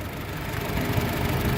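Honda HR-V 1.5 litre four-cylinder front-wheel-drive engine from 2015 idling under an open hood, a steady close, low rumble holding even throughout.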